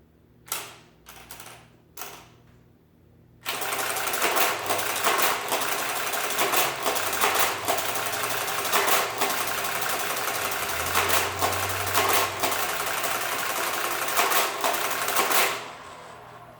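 A few sharp mechanical clacks, then a loud, steady whirring and rattling of a Marchant mechanical calculator running continuously for several seconds before stopping.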